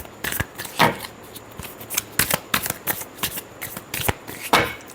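Tarot cards being shuffled by hand in a series of crisp riffling bursts with short pauses between, close and clear, no voices.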